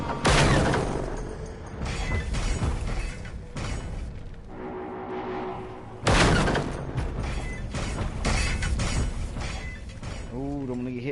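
Heavy .50 cal rifle shots crack out in a PS4 video game, loud booming bursts with mechanical clatter, a dense barrage that swells and recedes across the stretch with no voices over it.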